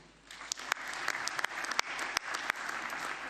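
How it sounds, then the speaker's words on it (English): Hands clapping from the audience at the CAF 46th Ordinary General Assembly, a steady dense patter of many hands carrying on alone with a few sharper individual claps standing out. "Can we clap hands once more?"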